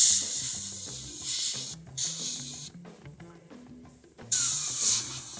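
Short hissing bursts from a spray can painting a Millennium Falcon scale model dark gray, a few separate blasts with quieter pauses between them.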